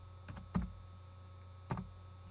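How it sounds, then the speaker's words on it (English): A few quiet taps on a computer keyboard come in two small bursts against a faint, steady hum. "type a few characters of the contact name and press Enter"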